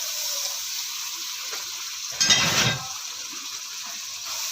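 Chopped tomatoes and green chillies fry with spices in a pan for a potato, fenugreek, carrot and pea dish, giving a steady close sizzling hiss with one brief louder crackling surge midway.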